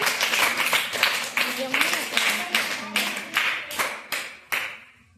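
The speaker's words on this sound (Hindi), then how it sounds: "ताली बजा लो अपने लिए" Children in a classroom clap for themselves in a burst of quick, loud, uneven claps that thin out into a few separate slaps, with faint voices underneath.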